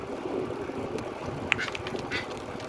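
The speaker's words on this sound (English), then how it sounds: "I don't know what that type of bird is, but this is the third bird I've seen now." A bird calls near a Sanibel Island beach in Florida, one or two short, faint squawks over steady background wind and surf noise.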